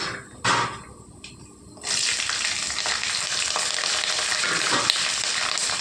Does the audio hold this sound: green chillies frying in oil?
yes